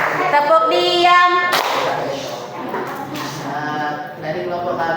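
A classroom chants 'tepuk diam' in unison, voices rising together between sharp claps, with a loud slap partway through and more voices and handclaps after it.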